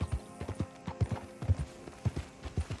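Horse hooves clip-clop steadily on the ground in the Western video game Red Dead Redemption 2, a close, even rhythm of distinct hoof strikes with no talk over it.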